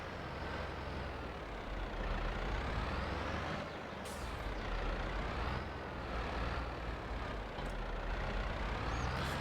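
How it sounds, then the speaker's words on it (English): An old John Deere tractor running in the video game Farming Simulator 22: a steady, continuous engine drone with rising and falling pitch, heard close throughout, with brief hissing bursts on top. "Our trusty old John Deere tractor."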